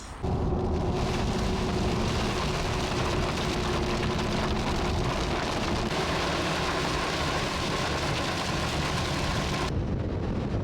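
Heavy rain drums steadily on a truck during a drive into a town in Estonia, a thick unbroken hiss that stays loud and even throughout with no voices.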